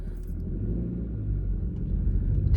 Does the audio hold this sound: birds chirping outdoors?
no